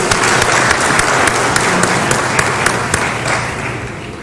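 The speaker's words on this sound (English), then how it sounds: "Can you clap for this young man?" Audience at a certificate ceremony applauds, a dense, loud burst of clapping from many hands with a few sharper claps standing out, holding steady then easing slightly at the end.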